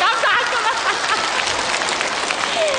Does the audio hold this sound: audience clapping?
yes